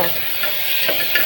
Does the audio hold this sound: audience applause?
no